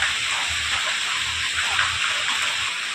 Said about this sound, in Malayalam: ഇവിടെ മഴയാണ് കേട്ടോ പക്ഷെ നിങ്ങൾ കാണിച്ചു തരാൻ പറ്റുന്നില്ല